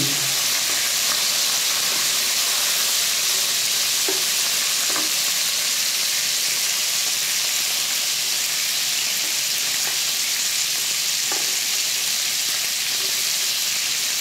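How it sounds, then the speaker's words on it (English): Prawns pan frying in hot oil for a Cantonese sweet and sour dish, giving a steady, dense sizzle throughout with occasional soft pops and stirring sounds. "we're going to pan fry the prawns for about 2 to 3 minutes"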